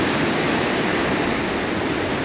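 Ocean surf washing onto a rocky beach below a clifftop campsite at Red Cliff, a steady, dense roar of breaking water with no distinct wave rhythm and no talking.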